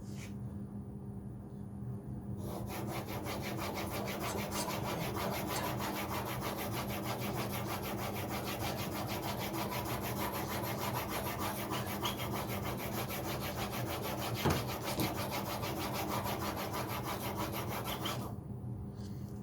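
A blade held in a Veritas Mk II honing guide is pushed back and forth across a sharpening stone, a rhythmic rasping scrape of fast regular strokes that starts after a short quiet lead-in and stops near the end.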